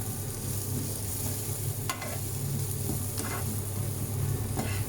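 Onions frying in hot oil in a pan, a constant loud sizzle with a few scraping strokes of a spoon stirring them at intervals.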